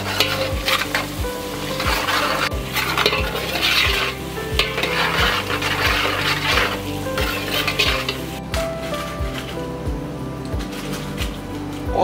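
Whole spices, cloves, cardamom and pepper fry in a pot for a Dal Meat dish, a continuous sizzle under repeated stirring and the clink of a utensil against the pan.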